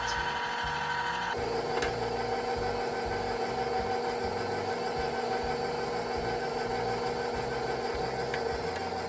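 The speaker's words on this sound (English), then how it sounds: "So right now I'm mixing the eggs, the sugar, the flour, and the salt." An electric mixer beats eggs, sugar, flour and salt for a wedding cake batter, giving a steady, loud motor whir with a constant hum that runs unbroken throughout, close up and with no talking.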